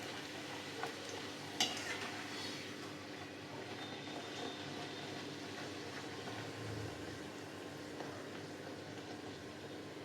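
Kochuri frying in hot oil while being stirred, giving a steady, close crackling sizzle that runs unbroken throughout, with one sharper clack near the start.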